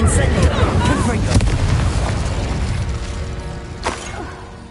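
A Confringo explosion spell from the video game Hogwarts Legacy blasts loudly with a burst and rumbling decay, followed by a second sharp crack near the end over steady game ambience.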